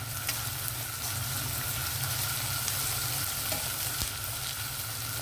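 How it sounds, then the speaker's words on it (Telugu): Onions, curry leaves and green chillies fry steadily in a pan for a chicken and drumstick curry, giving a continuous, even sizzle with faint stirring at close range and no voices. "ఉల్లిపాయలు కొంచెం కలర్ మారాయి కదా, నేను ఈ కరివేపాకు, పచ్చిమిర్చి,"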